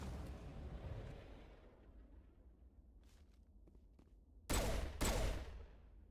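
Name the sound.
gunfire in Mass Effect video game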